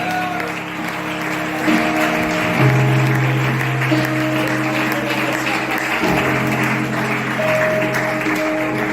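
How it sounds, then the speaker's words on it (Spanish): Applause from a church congregation fills the space steadily and loudly, a dense wash of clapping with sustained tonal music or organ notes underneath throughout. "Dale un fuerte aplauso a Dios."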